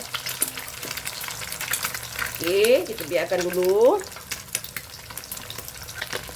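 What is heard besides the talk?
rice vermicelli stir-frying in a wok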